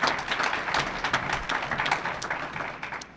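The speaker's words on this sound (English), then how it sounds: "If you will join with me in giving a rousing applause to Director Bell this morning and his staff for all of their efforts" An audience applauding at a lunch-and-learn event on understanding violence, a dense, continuous patter of many hands at moderate volume that fades slightly toward the end, no voices over it.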